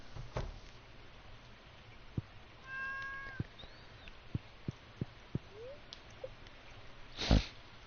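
A cat in the Stardew Valley video game gives a short, faint meow among soft game clicks and taps, with a sharp louder burst near the end.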